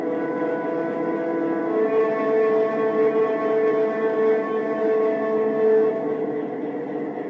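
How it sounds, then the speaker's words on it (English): A steady, sustained French horn tone from an O gauge toy train engine, with rich harmonics, plays continuously for several seconds, mid-loud and close, without pauses. "This engine has a French horn in it."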